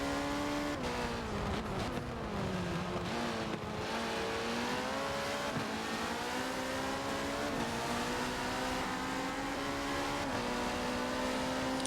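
A race car in a Daytona 24-hour sim racing game, its engine droning loud and steady near the listener, pitch climbing then dropping at several gear shifts, with faint tire noise under it.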